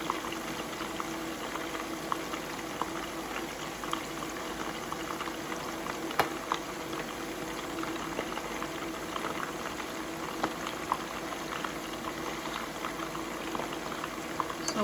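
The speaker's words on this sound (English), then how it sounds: "And now we'll wait for them to brown on one side, and we'll turn them the other side, and we will keep turning them and cooking them" Homemade meatballs cook and brown in a pan with a steady, continuous bubbling sizzle and soft crackles that hold at an even level throughout.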